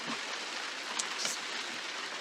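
Steady rain falls around a wooden boat at anchor near the shore, a dense even hiss with a few faint drip-like ticks, close and unbroken for the whole moment, with no talk.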